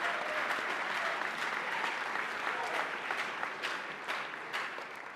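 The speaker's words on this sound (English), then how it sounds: "please give them a round of applause" Audience at an opening ceremony applauding, dense sustained clapping from many hands that stays fairly even throughout, heard from a distance.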